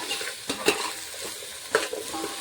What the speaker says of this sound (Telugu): అన్ని ముక్కలు మంచిగా ఫ్రై కావాలి ఫ్రెండ్స్.